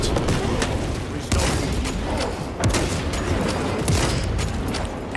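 Heavy sustained gunfire in Warhammer 40,000: Space Marine 2, dense overlapping bursts with several sharp loud onsets, continuing throughout and mixed with battle noise.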